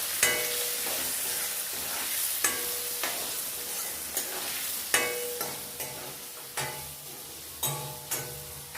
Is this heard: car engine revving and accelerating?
no